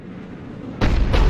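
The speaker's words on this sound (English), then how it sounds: "Looks like Cerberus got that cannon operational, Commander." A Cerberus cannon in Mass Effect 3 fires a sudden, loud, booming blast that cuts in after a quiet rumble and carries on as a heavy roar.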